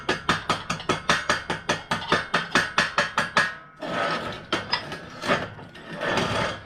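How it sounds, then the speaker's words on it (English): Steel plate being chipped of stick-welding flux and slag: a fast run of about sixteen sharp, evenly spaced metallic taps, then a pause and a few scraping, irregular strikes, close and fairly quiet. "We'll go ahead and chip the flux off, and just be careful to kind of chip away from you."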